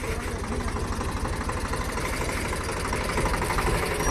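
A tempo's engine idles steadily with a pulsing, knocking throb, never revving because its throttle wire is broken, loud and close with no talk over it.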